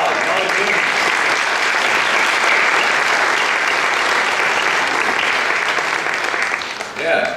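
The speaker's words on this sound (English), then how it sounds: "Big round of applause." Sustained applause from an audience at a community program finale, dense and steady throughout with no voices over it, tapering slightly right at the end.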